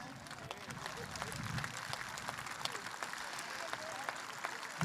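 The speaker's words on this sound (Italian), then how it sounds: "tutti noi che siamo intorno vogliamo fare un applauso ai protagonisti della" Audience applause at a live outdoor event celebrating local tradition in Carbonia, Sulcis Iglesiente, a steady, fairly distant patter of many hands clapping.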